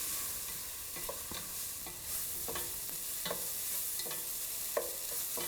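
Salted onions soften as they sauté in a pan, a quiet, steady sizzle punctuated by about a dozen light spatula clicks and scrapes at an irregular pace, with no voices.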